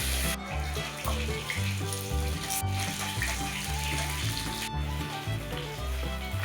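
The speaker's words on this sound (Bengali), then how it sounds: "আমাদের সব মাছ ভাজা কমপ্লিট।" Pieces of katla fish fry in hot oil in a Bengali home kitchen, a continuous crackling sizzle that runs under steady background music.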